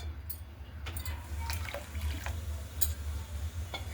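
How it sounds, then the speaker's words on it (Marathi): Water poured into a pot of amti curry on the stove, a faint continuous splashing and trickle over a low steady hum, close and quiet with no speech. "आता आपण गॅस बंद करू आणि हे पाणी पाणी आमटीमध्ये टाकून घेऊ"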